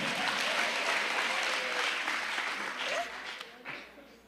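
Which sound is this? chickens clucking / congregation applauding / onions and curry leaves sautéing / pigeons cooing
congregation applauding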